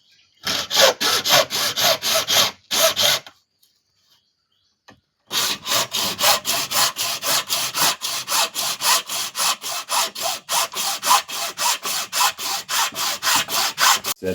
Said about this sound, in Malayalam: അതിന് ചിരട്ട കട്ട് ചെയ്യുന്നത് ഞാൻ